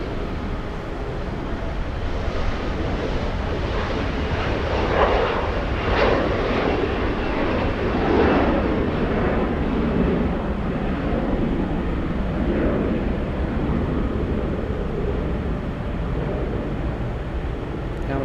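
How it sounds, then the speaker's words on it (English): A Boeing 787-10 takes off from the south side at LAX, its engines producing a sustained, fairly loud roar with broad rumbling noise that swells slightly and stays steady, with no talking. "787 taking off in the south side."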